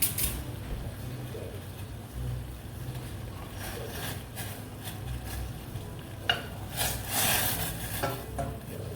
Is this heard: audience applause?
no